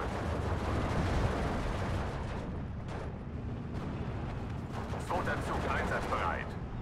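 Panzer IV tank gunfire in the Steel Division 2 wartime strategy game, heard as a dense, continuous wash of booming cannon and small-arms fire with rumbling explosions, loud and sustained throughout.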